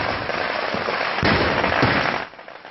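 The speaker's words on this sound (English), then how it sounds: "Every year, this temple marks New Year celebrations with a fireworks display and competition." Temple New Year fireworks display and competition: dense, continuous crackling of firecrackers with loud bursts and pops, sustained and close, tapering off near the end.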